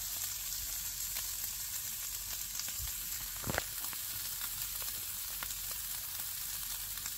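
Potatoes sizzle steadily on an overly hot griddle, a continuous close frying hiss with faint crackles and one brief clatter midway.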